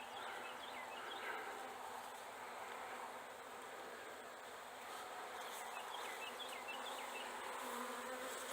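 Honey bees buzzing around a hive box, a steady, dense hum of many insects close by, with faint higher whines from individual bees flying past and no talking.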